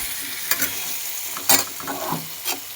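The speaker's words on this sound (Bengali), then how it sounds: "ভালো করে কষাতে হবে" Spices with garam masala and Maggi masala sautéing in a pan, a steady hiss of frying under three or four sharper scraping stirs spaced about a second apart, close and moderately loud.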